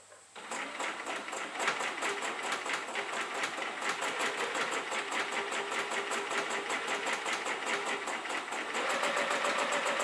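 A sewing machine stitches quilt pieces cut from a bunting panel, running in a steady, fast continuous whir from start to finish, close and fairly loud, with its pace picking up slightly near the end.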